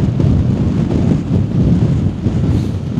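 Strong wind on a stormy afternoon at Sint-Annaland in the Netherlands roars steadily and loudly, buffeting the microphone with a deep, continuous rumble and no pauses.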